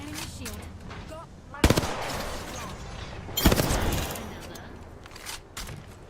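Gunfire during a squad shootout in a console battle royale match, two sharp loud bursts of rapid shots, the first near the start and the second mid-clip, with fainter firing and a voice in between.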